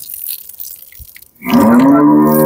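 After a brief quiet stretch of soft rustling, a dairy cow lets out a loud, sustained moo close by that continues to the end.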